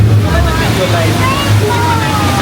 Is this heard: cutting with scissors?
no